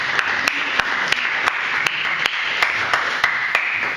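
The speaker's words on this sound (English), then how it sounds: "please feel free to clap" Audience members clap at a book launch. The claps are sparse, single and evenly spaced, and each one cracks sharply over a steady room hiss.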